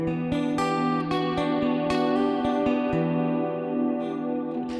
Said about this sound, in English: If I add the piezo